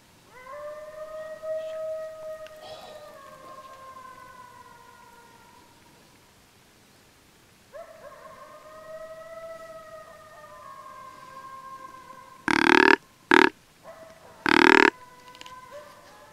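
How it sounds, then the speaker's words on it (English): Coyotes howl at night in rising and falling wavering calls, two long drawn-out bouts some distance away, followed by a few short, loud, harsh bursts close by near the end. "the filming, the coyotes' noise, it sounded like they're right by us"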